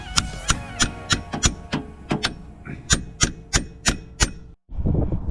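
Repeated sharp metal hammer strikes on a ball joint splitter ring out close by, a dozen or so blows in an uneven rhythm, followed by a brief rustle, while removing a Ford Focus ST front wishbone.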